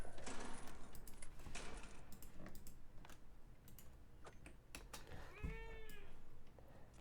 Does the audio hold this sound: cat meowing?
yes